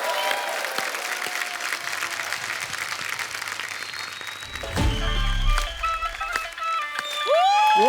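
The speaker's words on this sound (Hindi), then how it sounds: "जोरदार तालियां हो जाए उनके लिए।" Studio audience at The Kapil Sharma Show bursting into applause for a singer, a full roaring crowd clap that swells midway with whoops and cheering, close and loud, with bright musical stings cutting through.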